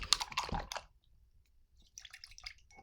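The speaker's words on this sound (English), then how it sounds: "I'm going to wash my brush." An acrylic paintbrush is swished and tapped in a water cup, a few soft close splashy drips and squishes, quiet, then a pause and light clinking rinse sounds.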